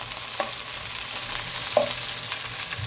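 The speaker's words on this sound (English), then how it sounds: "we can add the tomato and some of the chili. Give it a good stir." Onion, tomato and chili are stirred while frying in a pan, giving a steady low sizzle with a couple of soft utensil scrapes against the pan.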